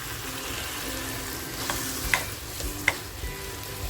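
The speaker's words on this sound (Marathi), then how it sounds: "थोडंसं पाणी टाकते" Water goes into a pan of sizzling pea and potato curry, giving a steady frying crackle with a couple of sharp clinks from a utensil on the pan.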